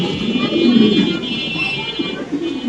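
Restless pigeons kept at a seller's place, several birds cooing in low throaty bursts close by, layered over one another with faint voices and background hum.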